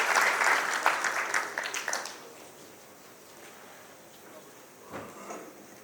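Applause at the inaugural session of a business event in Rajasthan welcomes a speaker to the stage, a loud round of clapping that fades out after about two seconds, followed by quiet room noise and a brief thump.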